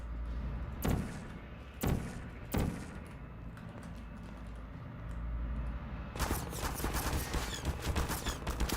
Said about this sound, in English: Get the turret to shoot at GLaDOS.